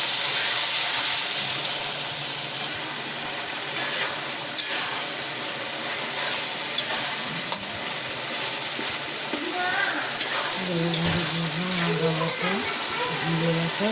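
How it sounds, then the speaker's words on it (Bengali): Potatoes are stirred in a pan with turmeric and salt while they cook, giving a steady close frying sizzle and hiss with light scraping from the stirring, and a voice talks briefly near the end. "এবার আলুগুলোকে ভালো করে নাড়াচাড়া করবো"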